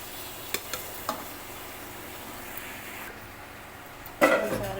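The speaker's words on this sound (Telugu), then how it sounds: "ఇప్పుడు దీన్ని అన్నంలో వేసి కలుపుకోవడము ఇలా అన్నం మీద అయితే వేసుకుని దీన్ని మొత్తం కలిసేలాగైతే కలుపుకోవాలి" Tamarind paste is mixed into cooked rice for pulihora, with a few soft scraping stir sounds and a louder clatter of a spoon against the vessel near the end, close and without talk.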